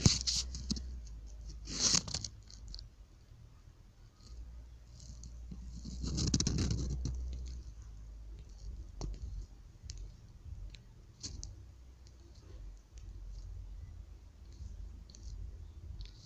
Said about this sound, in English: I'm gonna type this in.